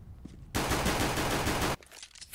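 A burst of rapid automatic gunfire in the video game CS:GO lasting over a second, dense and loud, cutting off abruptly against quieter background.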